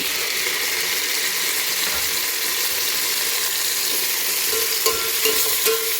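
Onion and tomato frying in a pan for vegetable pulao, a steady bright sizzle with a few scraping stirs of a spatula near the end, no talk.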